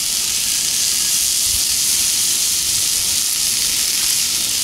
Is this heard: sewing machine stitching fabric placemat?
no